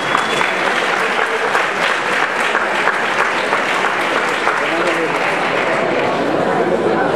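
Strong, continuous applause from a school audience at a graduation ceremony for upper-secondary and vocational students, dense clapping with a murmur of voices mixed in, steady for the whole stretch.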